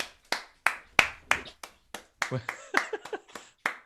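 A small group clapping for a birthday: several sharp, irregular bursts of handclaps, close and fairly loud, some single and some in quick clusters, with brief voices in between.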